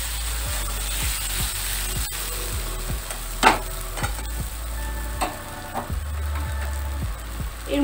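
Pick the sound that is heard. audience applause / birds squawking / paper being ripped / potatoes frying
potatoes frying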